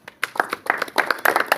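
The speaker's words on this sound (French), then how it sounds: "Applaudissez pour vous." A church congregation claps in short, uneven bursts, a handful of nearby hands striking irregularly over a quiet room.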